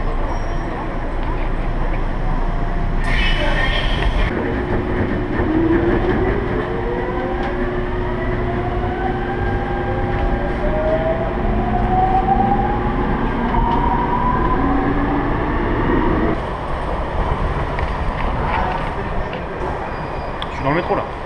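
A Seoul subway train rumbles loudly through a tunnel, its steady roar and rising, sliding whine of the motors filling the car while voices talk underneath.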